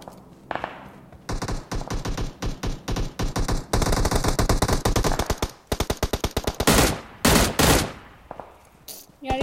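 Rapid automatic gunfire from the video game PUBG, loud bursts of shots in quick rhythmic clusters filling most of the stretch, with brief gaps between volleys and no speech over them.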